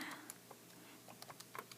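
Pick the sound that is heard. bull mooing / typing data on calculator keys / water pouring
typing data on calculator keys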